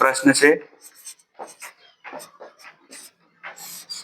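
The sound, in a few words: writing out a maths solution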